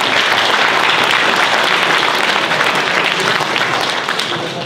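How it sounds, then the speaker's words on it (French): Audience applause at a round-table conference on mountain species genetics, steady, dense and loud clapping from a crowd that holds for about four seconds before easing slightly at the end. "on peut les applaudir"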